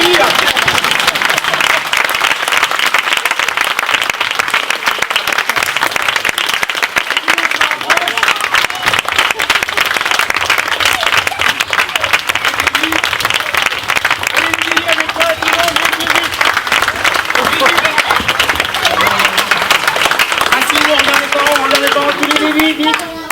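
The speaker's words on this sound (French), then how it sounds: "Mehdi, on peut l'applaudir." A crowd of spectators applauds at a karate school demonstration, loud sustained clapping lasting over twenty seconds with cheers and voices talking over it toward the end.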